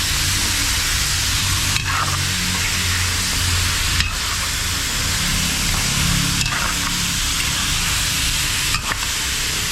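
Onion, ginger and garlic sautéing in a pot for chicken bulalo, a loud dense hiss with a few sharp spatula strikes spaced a couple of seconds apart, no speech.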